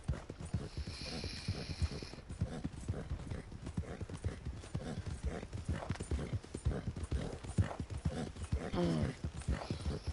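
Horse hooves clip-clopping at a steady riding rhythm in Red Dead Redemption 2, a dense run of close, even beats that holds throughout with faint creaks of tack.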